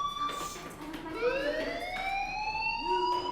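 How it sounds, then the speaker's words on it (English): Electronic fire alarm in the video game Life is Strange, a rising, warbling siren-like tone that sweeps upward repeatedly, loud and steady throughout with a brief voice near the start. "Hey, do you hear that fire alarm? That means you should be outside."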